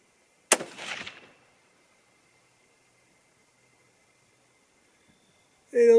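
A single loud rifle shot from a bolt-action rifle firing a Swift Scirocco II or Federal Fusion bonded hunting bullet, a sharp crack with a short echoing tail that fades into near silence, followed by a brief burst of noise at the end.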